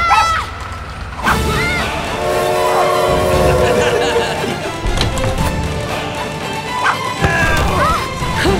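Steam train rumbling along in a Wild West film trailer, with horn-like whistle tones rising over dense music and action effects; loud and busy, with brief crashes and a short shouted voice.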